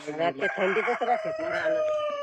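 A rooster crows loudly and close by, a long drawn-out call with a rising, wavering tone, while other birds chatter faintly in the background.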